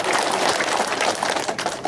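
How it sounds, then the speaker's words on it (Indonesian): An audience applauds steadily for an honored elder at a formal gathering, a dense continuous clapping that stays even and fairly loud throughout. "Sekali lagi boleh tepuk tangan untuk Pak Paulus Sumino."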